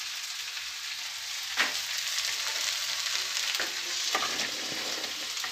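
Browned potatoes fry with Malabar spinach stems in a pan, a steady close hiss of sizzling oil broken by a few faint taps of stirring.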